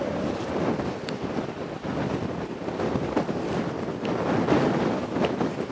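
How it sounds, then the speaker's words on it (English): Wind gusts across the open shingle at the Dungeness nuclear flask transfer compound, a steady, loud broadband roar buffeting the microphone with slight swells and no voices. "Can you hear that wind?"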